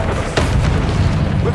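A Confringo spell blast in the video game Hogwarts Legacy on PS5: a loud, booming burst that swells sharply near the start and rumbles on heavily to the end.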